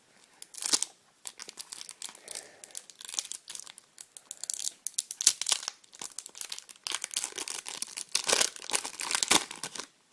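Panini Ekstraklasa 2013/2014 sticker packets being torn open and crinkled by hand, a continuous close run of crisp rustling, ripping and crackling foil sounds with no voices.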